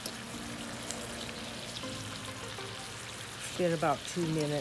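Chicken pieces sizzle steadily in a hot pan as they are turned for a creamy Parmesan chicken dish, a constant frying hiss with a voice talking briefly near the end.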